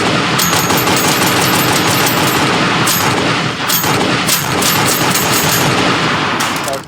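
Rapid automatic gunfire from the People Playground video game rattles loud and continuous, with several sharp bursts standing out over a dense, sustained barrage.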